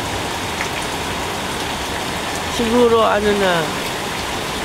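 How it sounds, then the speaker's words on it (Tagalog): Steady rain falling on a hot day in the Philippines, a dense, even hiss close by throughout, with a brief voice speaking over it midway. "Umuulan, nakakatuwa."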